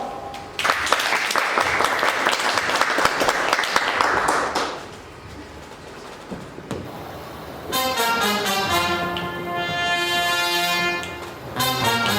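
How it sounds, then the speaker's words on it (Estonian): An audience at a live song performance bursts into loud, crisp applause for about five seconds, then it dies away to near quiet before music with a sustained tonal sound begins. "Aplaus!"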